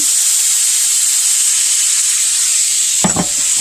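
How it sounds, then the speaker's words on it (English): A steady, loud sizzle of chicken and vegetables frying in a pan, with a brief clatter of stirring near the end. "Love that little sizzle."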